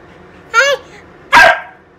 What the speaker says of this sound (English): that was a loud bark